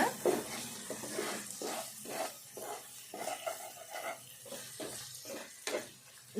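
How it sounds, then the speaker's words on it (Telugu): Ginger-garlic paste fries in a pan for an ivy gourd stir-fry, giving a soft continuous sizzle with irregular scrapes and clinks of a spoon against the pan, fairly quiet and close, with no talking. "ఇట్లా వేగినాక అల్లం వెల్లుల్లి పేస్ట్ కూడా ఇట్లా వేగినాక"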